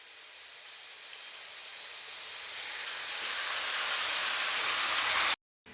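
Marinated chicken sizzles in mustard oil in a pan on a gas stove, a broad hiss that swells steadily louder before cutting off abruptly.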